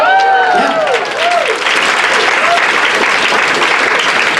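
Loud, steady applause from a comedy show crowd, filling the whole stretch, with a few whoops and cheers rising over it near the start.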